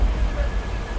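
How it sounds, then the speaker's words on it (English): Artificial rain pours from an overhead sprinkler system on a Hollywood studio backlot film set, a steady, dense hiss of falling water with a low rumbling undertone, continuous and fairly loud throughout, with no voices. "you can see the rain being produced by the overhead sprinkler system"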